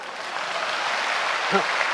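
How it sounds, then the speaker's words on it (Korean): Applause from a church congregation, a dense steady wash of many hands filling the room, with a brief voice rising over it near the middle. "박수."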